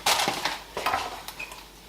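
A spoon stirs a whole packet of melted marshmallows in a pan for Twix krispie squares, giving a few close, sticky scrapes and soft knocks against the pan in quick bursts.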